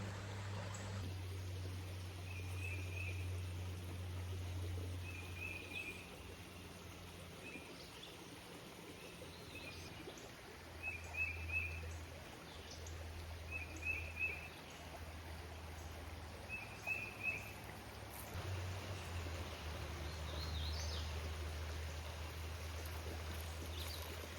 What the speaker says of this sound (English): You can probably hear the nature and the birds, the creek babbling.